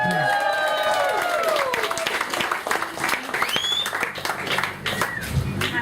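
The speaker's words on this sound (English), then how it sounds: "Give her a round of applause, everyone" An open mic audience applauds a performer, and the steady clapping runs throughout alongside cheers and whoops, with voices talking over it.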